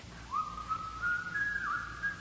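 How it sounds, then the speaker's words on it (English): Someone whistling the tune Yankee Doodle, a clear wavering melody heard slightly distant as if drifting from a window, lasting about two seconds. "Somebody's whistling. It's Yankee Doodle."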